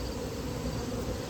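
Honey bees at a beehive give off a dense, steady buzzing drone. It is close and continuous, with no voices over it.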